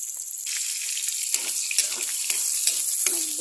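Garlic sizzling in a hot pan, a steady bright crackle with bursts of spitting, close and continuous with no talk.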